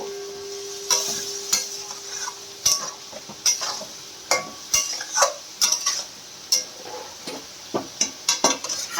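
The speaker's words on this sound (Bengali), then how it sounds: "সামান্য জল দিই, কষাবো।" Food being stirred and sautéed in a pan with a little water added, a utensil scraping and knocking against the pan in irregular bursts over a soft sizzle, close and clear with no talking.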